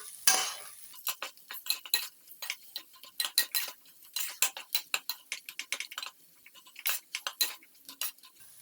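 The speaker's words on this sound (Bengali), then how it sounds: "দিয়ে মশলাটাও এর মধ্যে ভালো করে মিশিয়ে নেব।" A spoon stirs fried spice mix into a vegetable chop filling, giving a steady run of quick scraping and clinking strokes against the pot, fairly close and quiet, with no talk.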